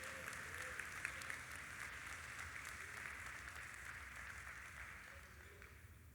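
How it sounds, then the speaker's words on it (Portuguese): Congregation in a church clapping together during a prophetic gathering, a continuous dense spatter of applause heard faint and somewhat distant, holding steady before easing slightly at the end. "Vamos aplaudir o Senhor, porque Ele já providenciou esse remédio."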